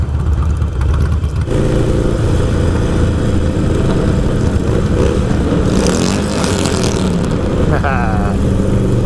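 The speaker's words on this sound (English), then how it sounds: "Got a rev bomb under the underpass" Harley-Davidson motorcycle engine revving hard under an underpass, a loud, sustained roar with booming low rumble throughout, pitch rising in a burst near the end amid surrounding traffic noise.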